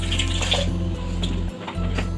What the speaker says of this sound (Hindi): फिर मैंने इसमें डाल दिया है गंगा जल।